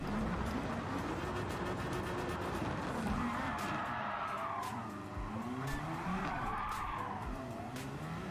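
A Super Formula race car in a video game at Fuji skids with its rear end slipping into a corner, tyres squealing in long wavering tones over the steady engine roar, continuous and close.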